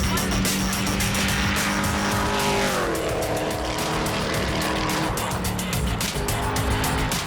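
A V8 Mustang race car charges up a hillclimb course, its engine roaring loud and continuous with gear changes and a falling pitch midway, tires working hard throughout.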